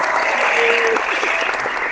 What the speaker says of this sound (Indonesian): kasih tepuk tangan dulu untuk Ko Albert